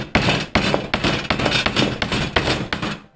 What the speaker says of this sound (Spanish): vamos a darle un poquito con el martillo para que bajen hasta abajo